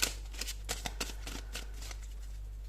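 Tarot cards are shuffled close by in a quiet room, a quick run of crisp riffling slaps and flutters over a low steady hum, with no speech.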